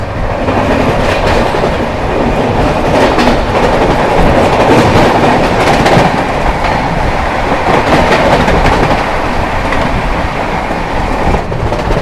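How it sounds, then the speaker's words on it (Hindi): The Jammu Tawi Kolkata Express passing on the tracks, a loud, close, continuous rumble with rhythmic clickety-clack of wagon wheels over rail joints, heard alone throughout. "दोस्तों सामने से आती हुई जम्मू तवी कोलकाता एक्सप्रेस, जम्मू तवी कोलकाता एक्सप्रेस।"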